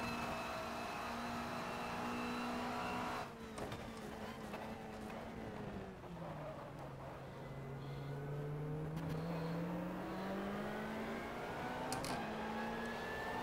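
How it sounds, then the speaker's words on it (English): A BMW race car engine in the racing simulator GTR 2 drones and shifts pitch steadily, easing off and building back up, with other cars nearby in a continuous close racing roar. "with this BMW, the backfires aren't nearly as loud as what we heard with the Viper."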